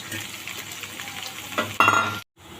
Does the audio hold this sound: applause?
no